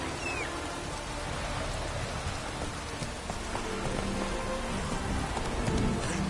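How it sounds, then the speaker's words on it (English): Steady rain falls in The Witcher 3 video game, a constant broadband hiss of drops on surfaces with a faint low rumble beneath, holding evenly at moderate loudness with no voices throughout. "Rain doesn't bother you, it seems."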